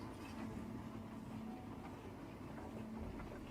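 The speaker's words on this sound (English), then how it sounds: "I hear train rattling, even though nothing is moving" A low, steady rumble with faint rhythmic rattling, like a train idling on its rails in a snowy island railway video game, quiet and continuous with no voices.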